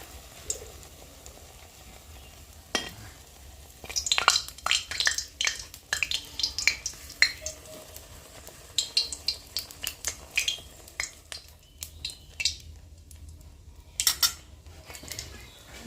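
Fritters (bora) fry in hot oil with a faint background sizzle, overlaid by frequent clinks and scrapes of a utensil against the pan in irregular bursts, fairly quiet with no voices.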